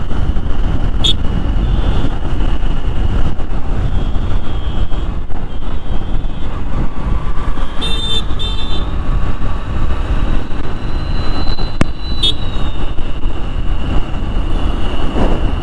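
Steady motorbike engine drone with road and wind rush while riding through Malda town, a continuous loud hum with occasional passing traffic and faint horn-like tones, no talking.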